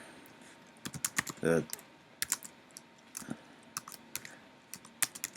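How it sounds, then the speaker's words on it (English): Quick, irregular keystrokes on a computer keyboard clatter close by, with a brief burst of speech in the middle. "So for now I'm just going to type in movie title."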